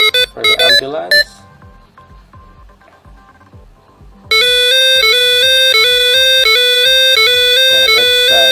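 A shrill electronic ambulance siren tone from a toy robot alternates rapidly between two pitches, loud and steady, following a few short beeps and a quiet ticking stretch.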